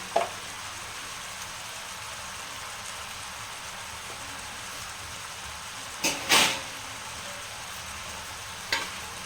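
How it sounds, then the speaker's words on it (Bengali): Bottle gourd cooking in a covered pan, a soft continuous hiss and sizzle close by, broken by a couple of brief clattering knocks partway through. "এটা আমি একটু কষিয়ে নেব ঢাকনা দিয়ে পাঁচ মিনিটের মতো আমি কষবো"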